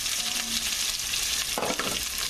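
Chopped onions dropped into a hot frying pan with bacon fat for a bread soup, giving a steady close hiss of frying with a brief louder burst of sizzle and stirring near the end, no talk.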